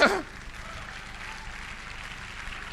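A church congregation applauds in a steady, moderate wash of clapping after a brief louder burst at the start, with no voices standing out.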